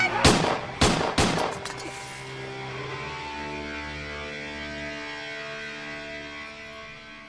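Several loud gunshots crack in quick succession near the start during a tense standoff, then give way to a long ringing, echoing decay over a low drone.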